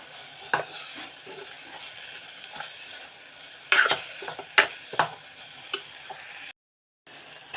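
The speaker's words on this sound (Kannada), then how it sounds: "ಆಮೇಲೆ ಸಾಂಬಾರು ಪೌಡರ್ 1 ಟೇಬಲ್ ಸ್ಪೂನ್ ಹಾಕ್ಕೊತಾ ಇದ್ದೀನಿ. ಸ್ವಲ್ಪ ಫ್ರೈ ಆಗಲಿ." Chili powder, turmeric and sambar powder fry in a pan for avarekalu huli, a low sizzle under scattered close spoon scrapes and clinks, with a brief gap of silence near the end.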